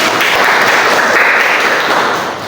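A classroom group claps together during a micro-teaching chemistry lesson, producing a dense burst of applause that fades slightly at the end.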